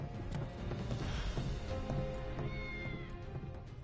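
A cat meows amid game sounds from Final Fantasy VII Remake, the call standing out over a busy, steady mix of music and effects.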